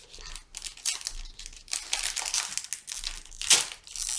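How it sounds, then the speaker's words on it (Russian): A small plastic packet is torn open and handled, giving close, irregular crinkling and crackling bursts throughout. "Давай другой открывай пакетик."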